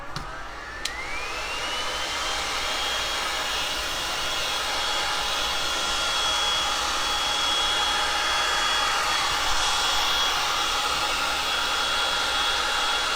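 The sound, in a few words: heat gun heating Woodubend flexible wood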